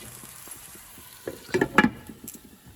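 Broccoli fries in a pan until golden brown, with a soft, low sizzle that briefly swells into a few louder stirring scrapes near the middle before settling back down.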